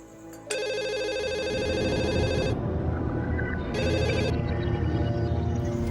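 A telephone rings loudly and close in a home setting, two long electronic ringing bursts separated by a short pause, with no talking over it.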